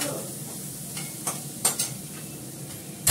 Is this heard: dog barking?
no